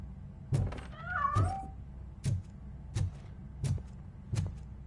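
Cat meowing in the RoboCop video game: a drawn-out, wavering meow near the start, with soft thunks and thuds spaced through the rest, fairly quiet and with no talk.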